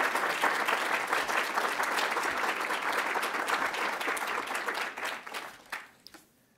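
An audience applauds warmly to welcome Senator Ted Cruz at a speaking event. The sustained clapping from a full room is steady and loud, then thins out and fades over the last second or two.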